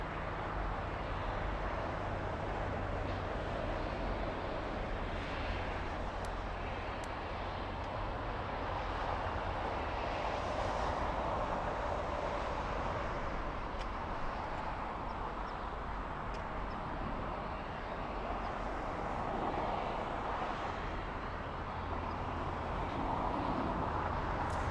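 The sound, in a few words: United Airlines plane from Chicago landing at LAX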